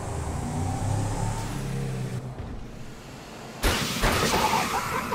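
A car drives in the video game GTA 5, its engine droning steadily, then a louder burst of noise and revving as it speeds on, with no talking.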